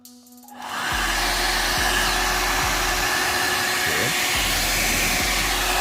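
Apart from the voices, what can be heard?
VGR V431 hair dryer running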